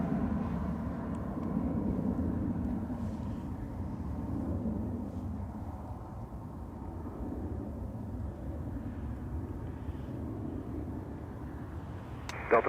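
A Boeing 787 airliner crabbing in to land in a crosswind at Toronto Pearson airport, a faint distant low jet rumble that holds steady, no talking.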